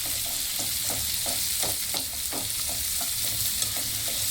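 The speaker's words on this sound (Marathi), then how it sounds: "आणि कांदा छान परतून घ्यायचा" Onion sautéing in a pan with salt, a continuous close sizzle with rhythmic stirring scrapes repeating steadily, and no talking.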